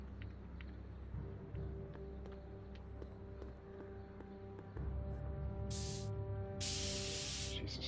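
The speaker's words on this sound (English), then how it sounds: "Spray paint. Directions say to apply a thin coat and let dry." An aerosol spray paint can hisses in a Back to the Future adventure game scene, with a short burst and then a longer spray near the end, faint over a steady background score of ticking and tones.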